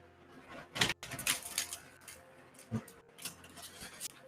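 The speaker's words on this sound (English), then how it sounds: "That's enough shuffling for this deck." Tarot cards shuffled in a deck by hand, giving several quick crisp riffling bursts with short gaps between them, close and fairly quiet, with no talk over them.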